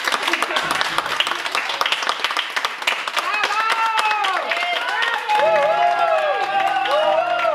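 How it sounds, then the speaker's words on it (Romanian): An audience at a bookstore music event claps, with dense applause that thins out as tonal singing or music rises over it, and voices can be heard mixed in. "vă rog să o aplaudați"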